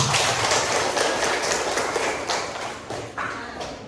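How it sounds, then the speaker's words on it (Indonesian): Classroom applause for a student presentation group, loud dense clapping from many children that starts at full strength and slowly thins toward the end. "Silakan beri tepuk tangan kelompok 1"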